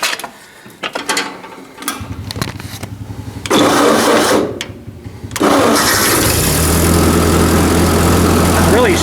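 A big old engine is cranked over by its starter in a hot enclosed space, a rhythmic mechanical churning that catches and settles into a loud, steady running idle, with a voice talking briefly early on.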